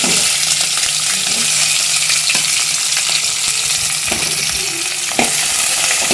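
Green chillies and onion sizzle loudly in very hot oil for a chicken fry, a dense, constant crackling hiss close up with a few faint stirring clicks.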